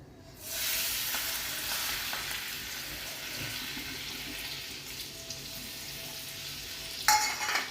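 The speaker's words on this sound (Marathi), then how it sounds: "असं दोन चारच दाणे टाकू राहिले मी फक्त मेथे आणि आता कढीपत्ता टाकते" Fenugreek seeds and curry leaves drop into hot oil, setting off a sudden hiss that settles into a steady crackling sizzle, with a brief fresh burst near the end, close and fairly loud.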